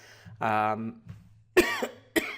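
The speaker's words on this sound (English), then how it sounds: "Excuse me for coughing in your ear." A couple of short, rough coughs close to the microphone, with a voiced vocal sound between them in a quiet room.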